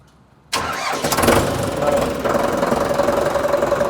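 An Indofarm 3055 tractor engine cranks and catches abruptly after a brief quiet moment, then settles into a steady, loud rumbling idle with a rattling, knocking texture.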